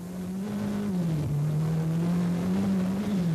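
A rally car driven by Timo Salonen climbs the Col de Turini in the 1985 Monte Carlo Rally, its engine holding a loud, steady drone that dips briefly as it shifts and then settles back, heard close up the whole time.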